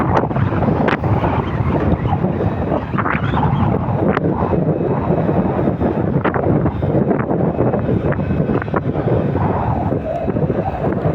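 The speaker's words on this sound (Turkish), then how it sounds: "fazla rüzgar var" Strong wind buffets the microphone continuously, a loud roaring rush with gusty bursts and no voices.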